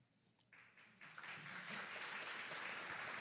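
A conference audience at STAM 2024 breaks into applause, starting with a few scattered claps and swelling into steady, fairly faint clapping.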